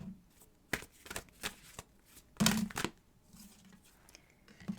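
Tarot cards are shuffled and drawn from the deck at close range and fairly quietly. Brisk riffles and slaps come in short bursts, with a louder flurry midway and soft handling between.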